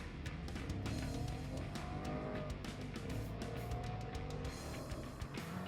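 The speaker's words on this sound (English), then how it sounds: "we'll do a quick performance run" Volkswagen Polo GT TSI, boost building, accelerating hard on a quarter-mile performance run along a slightly curving road, a loud continuous engine roar with rising pitch and gear changes and no voices.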